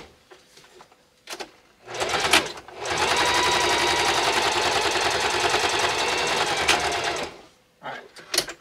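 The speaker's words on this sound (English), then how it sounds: "let's sew these up quick." Singer sewing machine stitching custom hot rod bucket seat upholstery, a loud steady mechanical whir running unbroken for about four seconds, framed by brief shorter bursts of stitching and handling before and after.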